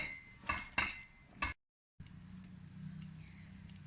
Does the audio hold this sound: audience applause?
no